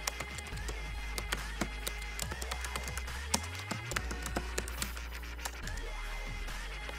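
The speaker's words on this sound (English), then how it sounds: "I'm gonna select this and type in my name" Quick, uneven keystrokes on a computer keyboard tap out a short burst of typing, soft and close over a low steady hum, with no talk.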